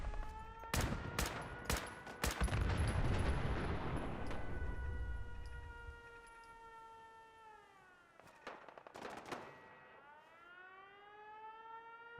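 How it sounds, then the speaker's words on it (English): A Fallout 4 video game siren wails, rising and falling in long sustained tones, with bursts of rapid gunfire and booms early on, then the siren continues mostly alone. "And they flipped the siren on"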